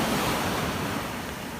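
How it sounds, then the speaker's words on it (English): Surf pounds the shore of a Sanibel Island beach at high tide, a dense, steady roar of crashing waves filling the air with no voices. "Sometimes it's calm, but today we've got some good waves going on."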